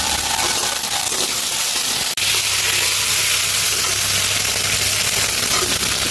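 Tomato, onion and potato fry in a pan with a loud, steady sizzle that runs throughout, broken by one brief sharp knock near the middle.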